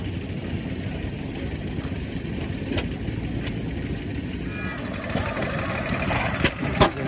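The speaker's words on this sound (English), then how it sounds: "Here's a sweet little Cushman truckster." A small Cushman Truckster utility vehicle engine runs steadily at a low idle-like chug, close and continuous, with outdoor background noise and brief voices nearby.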